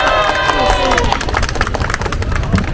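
A crowd at a Cambodian peace-accord anniversary demonstration bursts into applause, with loud clapping and cheering mixed with crowd voices and babble, all close and sustained.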